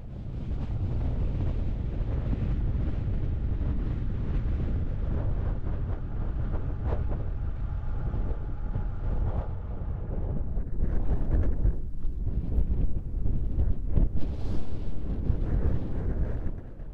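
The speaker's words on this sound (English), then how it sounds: "Wow, that wind is just whipping." Strong gusty wind buffets the microphone outdoors on a road trip through Utah's Red Canyon, a loud continuous roar that swells into heavier gusts toward the end.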